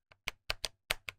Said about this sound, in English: close to the microphone here while I'm hitting the keys